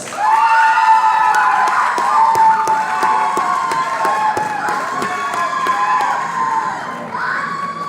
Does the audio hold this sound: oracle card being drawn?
no